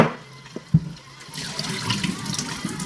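Water runs steadily into a container for plant watering ahead of a transplant, a broadband rushing pour building after a couple of soft knocks and continuing close and moderately loud to the end.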